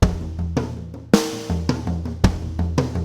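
Deep, resonant rock tom groove on a drum kit, including floor tom, in a steady, swaying six-count pattern, loud and close, with each stroke booming and decaying before the next.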